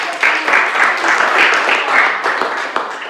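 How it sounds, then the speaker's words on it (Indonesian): A class applauds, with a dense, bright burst of clapping that runs steadily for a few seconds at close range, with some voices mixed in. "kalau tidak ada kita berikan aplaus dulu"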